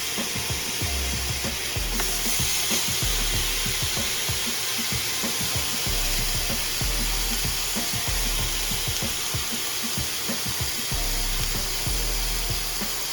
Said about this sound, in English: now that our grill is ready, let's put the steak